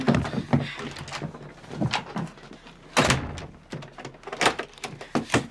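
A door shuts and is locked with a series of sharp knocks, thuds and rattles, loud and close, spread irregularly with a heavy bang midway.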